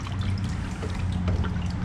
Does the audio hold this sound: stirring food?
no